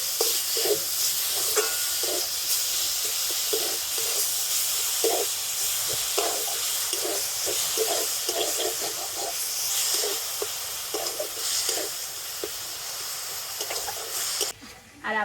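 Semolina and jaggery mix being stirred in a pan, with a steady soft hiss and sizzle broken by regular scraping strokes of a spoon, all fairly quiet.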